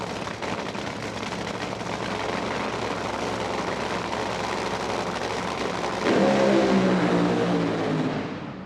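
A nitro drag racing car roars through a run at an IHRA Outlaw Nitro Series event in Milan, a loud, steady engine blare that swells and revs higher near the end, with no talking.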